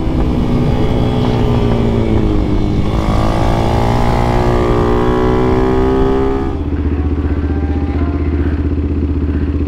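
Motorcycle engine on a race track, revving loudly and continuously with rising and shifting pitch, then dropping to a steady lower drone near the end.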